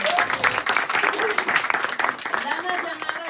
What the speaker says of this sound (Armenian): Ելենա ջան առաջարի քեզ առանձնահատուկ ծափել